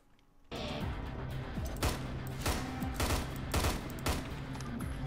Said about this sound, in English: gunfire for a bit, I'm sure